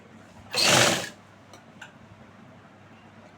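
Sewing machine stitching a suit, one loud burst of rapid stitching lasting about half a second, followed by a few faint clicks in a quiet room.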